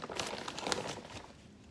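Close, continuous crinkling and rustling of thin plastic, fairly quiet and brief.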